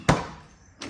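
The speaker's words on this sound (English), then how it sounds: "door opens. I have 2 working doors that are keyless." A VK Commodore car door pops open through keyless entry with one sharp close clunk, then a quieter second knock near the end, no voices.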